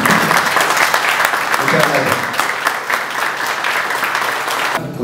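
Loud, sustained audience applause for the Colombian National Police at a world journalism summit, dense clapping throughout, with someone briefly speaking.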